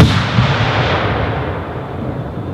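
Crown Pyrotechnics 1.3 aerial firework shells bursting at a display, a continuous loud barrage of deep booms and crackling reports with no pauses, rumbling on throughout.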